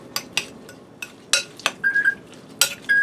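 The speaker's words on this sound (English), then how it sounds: "I'm going to get in here with my spoon and break my eggs up and mix this around a little bit" A spoon clinks against a bowl while mixing eggs into shredded hash brown mixture, a few sharp, close metallic taps scattered irregularly with brief ringing tones between them.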